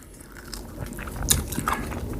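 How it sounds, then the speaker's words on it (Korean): Biting and chewing into soy-braised baby back ribs eaten by hand, with soft close-up crunches and wet chewing sounds that build slightly louder toward the end, no talking. "갈비 하면 또 손으로 뜯어 먹어야 되죠"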